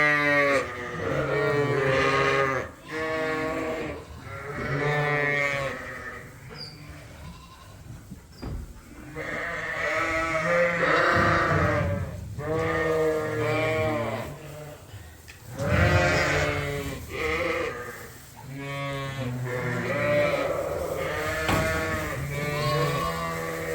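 A flock of sheep, ewes and rams, bleats loudly and almost continuously in a snowy winter farm setting, many overlapping wavering calls near and far with only brief lulls.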